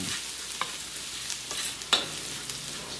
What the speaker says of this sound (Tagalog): Lalagyan ko muna ng bawang at igigisa muna natin yan